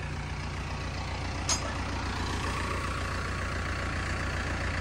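A tractor pulling a trolley arrives, its engine a low steady rumble at moderate distance, with a brief sharp hiss partway through.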